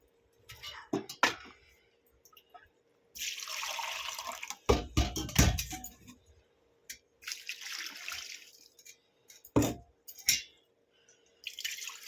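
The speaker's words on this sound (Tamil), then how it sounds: "நண்டு நல்லா வெந்து வரட்டும், அதுக்காக நம்ம இன்னும் கொஞ்சம் தண்ணி சேர்த்துக்கலாம்." Water is splashed into a pot of crab gravy, coming in several short, uneven pours and trickles close by, with quiet gaps between the bursts.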